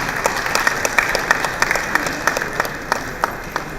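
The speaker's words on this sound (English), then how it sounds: "a round of applause for Dr." Audience applause at an awards ceremony for a health maintenance organisation, with steady dense clapping from a crowd filling the room, close and loud, sharp individual claps standing out.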